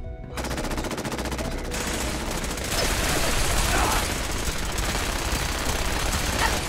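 Rapid automatic gunfire from the video game Fallout 4 rattles loudly and continuously, with sustained bursts layered over the battle noise and intensifying toward the end. A voice may speak briefly amid the shooting.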